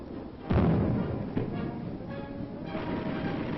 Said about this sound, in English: Next, the visitors watch demonstration firing. Recoilless rifles give the infantry artillery firepower.